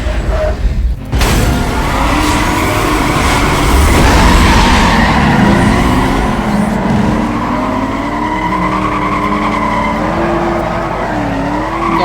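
A Chevrolet Camaro SS, an old muscle car in Need for Speed Most Wanted, pulls away with a loud, steady engine roar and long squealing, skidding tyres that hold for the whole stretch of driving.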